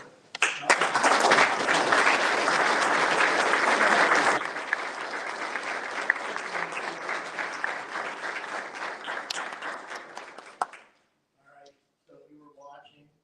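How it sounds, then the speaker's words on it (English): A school audience at an SASD 2025 event gives a standing round of applause to parents, family members and guardians: dense, loud, sustained clapping that thins after a few seconds and stops, then a voice briefly speaks. "can you please stand so we can give you a round of applause too"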